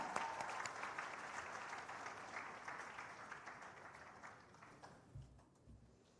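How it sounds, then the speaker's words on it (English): A graduation convocation audience claps in a steady, dense round of applause for a valedictorian; the clapping is loud at first, then thins and fades out over the last second or so. "Big round of applause"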